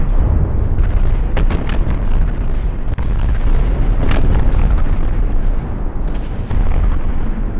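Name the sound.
artillery barrage explosions in a video game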